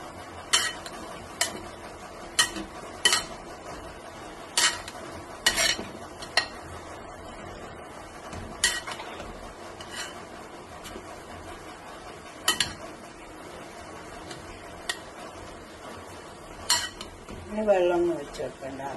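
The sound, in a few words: stirring palak potato curry in pan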